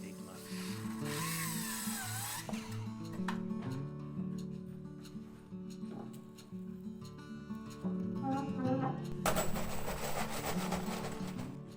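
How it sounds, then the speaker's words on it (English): A power driver sinks 65mm screws through glued wooden floorboards during Japanese-style house floor installation, short whirring bursts separated by pauses with handling knocks, ending in a longer, louder buzzing run. "Fix floorboards with wood glue and 65mm long screws."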